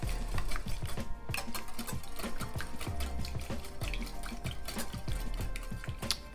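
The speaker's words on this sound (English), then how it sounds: "Whisk all that together." One large egg and a teaspoon of vanilla extract whisked together in a bowl, producing a quick, continuous rhythmic clicking and sloshing that stays close and fairly loud.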